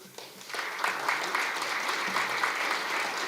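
Audience applause at a State Bar of Michigan Business Law Section event: steady, dense clapping from a seated crowd that carries on evenly throughout, with no voices over it.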